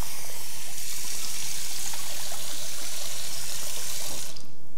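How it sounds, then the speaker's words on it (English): Tap water runs steadily into a sink, rinsing soaked almonds, a close, continuous splashing rush that starts after a moment and cuts off near the end. "So I'm just gonna discard that water and I'm gonna give them another rinse."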